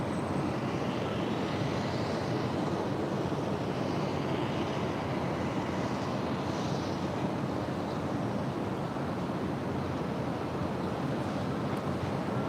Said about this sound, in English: That is a 30-year-old MD-11 freighter.